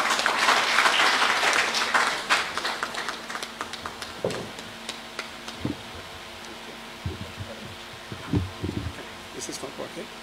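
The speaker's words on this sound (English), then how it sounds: "May we please give a round of applause to Mr. Camara" Applause from a crowd at a staff retreat and award ceremony for lawyer Lamin Camara, fairly loud at first then thinning into scattered claps and bumps, with a voice speaking over the tail end.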